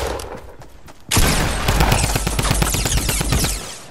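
Rapid automatic gunfire in a squads shooter game, a loud sustained burst of close shots in fast rhythm that kicks in abruptly after a quieter, muffled stretch.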